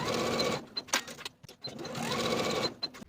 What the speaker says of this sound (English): Sew with a 1/2 inch seam allowance and press the seams open.